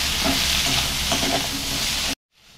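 Guava, tomato and onion sautéing in a pan give a loud, close, continuous sizzle with stirring scrapes, cutting off abruptly near the end and no talking.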